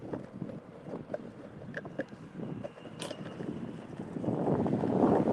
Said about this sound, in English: I know it's really windy right now.